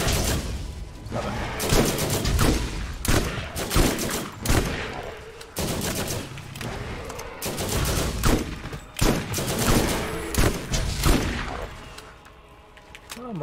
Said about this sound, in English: I'm kind of shooting at it from the front